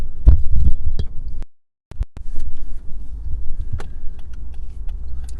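Lexus ES demo car rolling along a highway, a steady low road rumble and cabin hum with scattered small clicks and knocks, interrupted by a brief dropout of near silence before the drone resumes, no talking.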